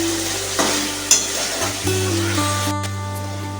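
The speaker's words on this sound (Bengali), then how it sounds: "ভালো করে নাড়িয়ে নেব" Shahi garam masala powder is stirred into frying egg curry, a brief close sizzle with a couple of spatula knocks against the pan.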